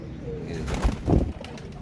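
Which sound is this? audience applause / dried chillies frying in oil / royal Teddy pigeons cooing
royal Teddy pigeons cooing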